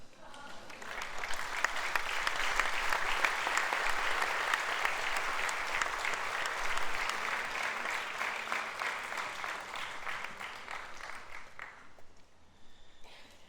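An audience at the closing ceremony of the Vojdan Chernodrinski theatre festival in Prilep claps together in sustained, dense applause that rises quickly, holds for about ten seconds and then thins out and fades.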